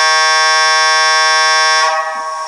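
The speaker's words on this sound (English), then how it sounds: "For some reason in this program it has an air horn with it" Air horn sound effect from a Bachmann 2-8-0 steam locomotive model with a DCC sound decoder, one loud sustained chord-like blast that holds steady for nearly two seconds before cutting off.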